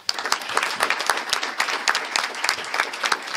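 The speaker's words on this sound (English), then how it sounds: "I'd like a round of applause for them." An audience at a school district meeting applauds a wrestling program, with steady, dense clapping throughout, fairly loud and close, with no talk over it.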